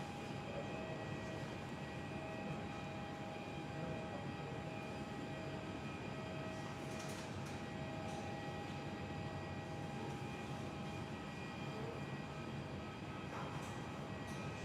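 A Jetstar passenger jet at Perth Airport, heard as a steady, distant engine roar with a faint whine, holding level throughout with no talk.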